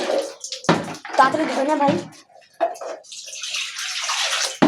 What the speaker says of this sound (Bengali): এই জল বার করবে এখন।